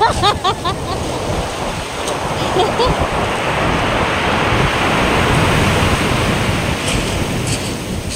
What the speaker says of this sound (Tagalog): Oh, naririnig mo yung sound ng pebbles.